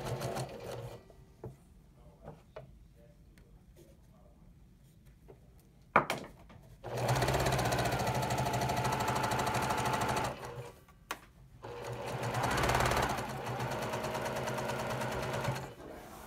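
A sewing machine stitches a quarter-inch quilt seam in two bursts of fast, steady mechanical whirring, with quieter handling clicks and rustles before and between the runs.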